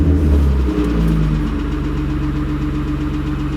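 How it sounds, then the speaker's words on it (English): BMW E36 car engine idling close up, a steady low rumble with a slight rhythmic knock, a little louder at first and then settling into an even idle. "So the car that turned on absolutely fine."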